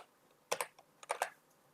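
Quick bursts of typing on a computer keyboard, a few close, crisp key clicks in two short clusters against a quiet room.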